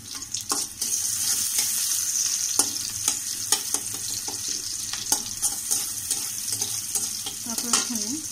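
Chopped onion frying in hot oil, a steady close sizzle with intermittent stirring scrapes and clacks over the crackling throughout.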